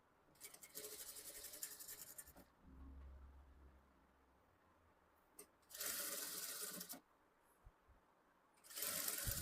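A sewing machine stitches fabric in three separate quiet bursts, each running a second or two with short pauses between, plus a faint low hum in the middle.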